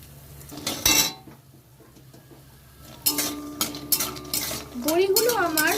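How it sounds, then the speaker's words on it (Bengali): Bori lentil dumplings frying in hot oil in a pan, stirred with a metal utensil: loud scraping and clinking strokes in bursts over a soft sizzle, with quieter gaps between. "লাল করে ভাজা হয়ে গেছে এবার আমি তেল ঝরিয়ে তুলে নেব"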